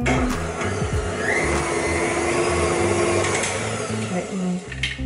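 An electric hand mixer whirs steadily as it beats cake batter with a freshly added egg, running loud and continuous throughout with a faint voice in the background.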